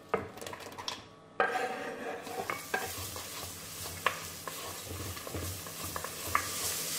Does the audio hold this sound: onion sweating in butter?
yes